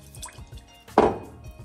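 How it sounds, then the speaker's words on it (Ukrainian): Dry buckwheat groats poured into a pot of water while cooking, giving one sudden, fairly loud splashy rush that quickly fades into soft trickles, with no talking. "беремо воду, пересипаємо сюди нашу гречку"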